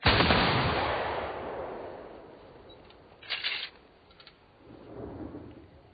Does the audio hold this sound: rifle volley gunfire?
yes